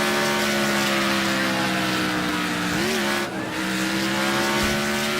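Race car engine droning steadily in the soft-body racing game Wreckfest, loud and continuous with a brief pitch dip midway, no talking.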